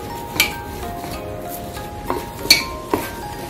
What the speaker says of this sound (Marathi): हे छान मिक्स करून घ्यायचं।